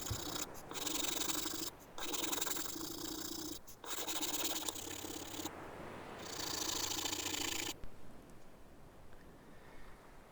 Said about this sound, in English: Just sanding it flush.